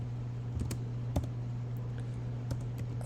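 Keystrokes on a computer keyboard while code is written out, sparse soft clicks over a steady electrical hum, fairly close and unaccompanied by talk.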